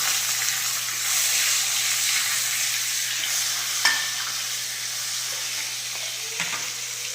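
Green chili and chopped tomato frying in oil for a fish curry, a steady broad hiss of sizzling with an occasional soft knock, close and even, under a faint low hum.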